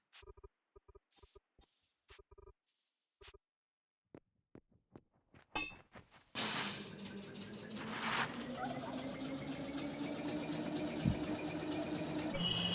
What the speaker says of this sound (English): Hear those gold flakes getting made.